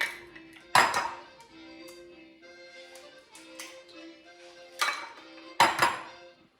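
Four eggs knock and clatter into a metal mixer bowl in a kitchen while Carnevale frati fritti are being prepared, giving a few sharp clinks and one quieter tap over a faint steady hum.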